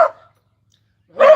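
A dog barks at the neighbors indoors: two loud, close, sharp barks a second apart, with silence between and no talk.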